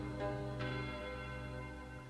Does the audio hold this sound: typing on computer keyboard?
no